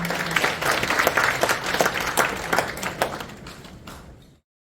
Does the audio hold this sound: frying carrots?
no